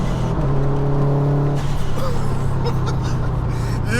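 A 488bhp Subaru WRX STI on a rolling launch roars close and loud, a steady engine drone that rises in pitch, with wastegate and dump-valve flutter near the end.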